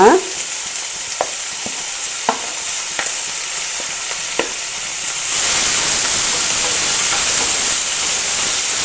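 Two chopped onions fry in a hot pan for a masala base, giving a steady close sizzle and hiss with a few scraping stirs early on, and the sizzle swells louder partway through.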